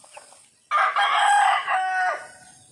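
A rooster gives one loud, close cock-a-doodle-doo crow lasting about a second and a half, rising and falling, with quiet background before it.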